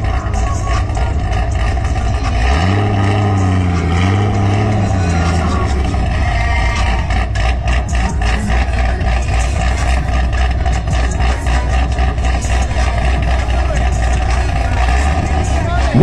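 A Corvette engine with a suspected misfire runs steadily for the whole stretch, a loud, deep rumble with a rising and falling pitch early on, near and continuous.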